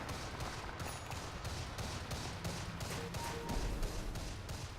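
Sniper, the hero in Dota 2, fires a rapid, steady string of rifle shots at a tower in a busy match, each report evenly spaced over dense, continuous game noise.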